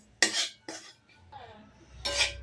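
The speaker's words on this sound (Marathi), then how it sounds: "कमी गॅसवर हलवून घ्यायचं चांगला." Semolina for upma is stirred in a pan over low gas, with sharp metallic scrapes and clinks of a spoon against the pan in several close, separate bursts.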